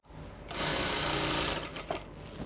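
A home sewing machine set to a gather stitch runs a long seam down a bubu dress toward the hemline, giving a close, steady, fast whir that starts after a brief pause and keeps going with a slight flutter near the end.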